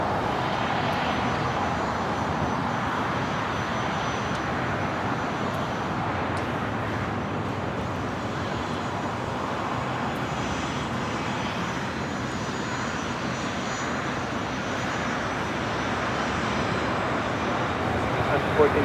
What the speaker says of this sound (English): China Southern Cargo 777 freighter flying above us here at LAX, heading to the south side.